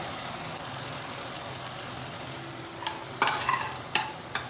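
A cashew, poppy seed and mustard paste fries in oil for a Bengali pabda fish curry, giving a steady low sizzle that gets a few sharper bursts of stirring and spatula scraping toward the end.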